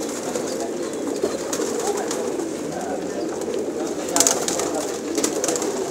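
Pigeons in a loft coo softly and continuously, many birds together, with a low murmuring hum and faint rustling.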